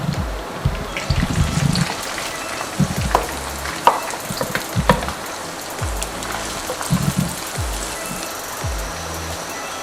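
Ground onion, green chilli and tomato frying in ghee, a steady loud sizzle with bursts of stirring and scraping in the pan, no voices.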